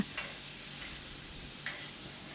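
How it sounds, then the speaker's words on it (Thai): Lotus rootlets with shrimp paste and fresh shrimp are stir-fried quickly over medium-high heat, giving a soft, steady sizzle with two light spatula taps against the pan, fairly quiet and without voices. "ผัดอย่างรวดเร็วนะคะ เพื่อให้ตัวไหลบัวของเรานะคะ สุกและยังมีความกรอบอยู่นะคะ"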